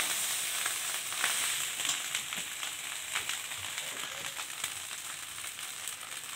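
Cooked rice fries in a pan for bhat bhaja, giving a steady, close sizzle with small crackles and occasional stirring scrapes, and no voices.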